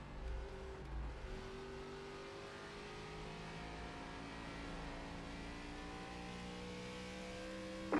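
ARCA race car engine at full throttle at Richmond in the iRacing simulator, a steady, sustained drone with slowly rising harmonic tones as the engine pulls, heard alone at moderate level.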